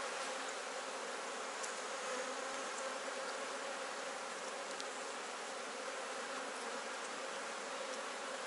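Honeybees swarm around an open beehive with a steady, dense buzz that stays even throughout and is heard alone, with no voices.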